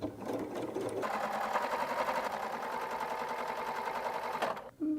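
Sewing machine stitching a 1/8 inch seam in fabric, a fast, even mechanical whir that starts after a second and runs steadily for about three and a half seconds before stopping abruptly, fairly quiet and close.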